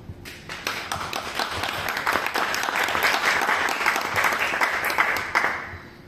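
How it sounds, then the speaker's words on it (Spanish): Sustained audience applause at a book presentation on vampirism, a dense, even wash of many clapping hands from a moderately distant crowd that continues for several seconds. "Pido un fuerte aplauso"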